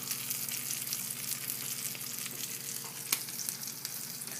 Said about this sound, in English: Okay, I've added the stock to the guandules.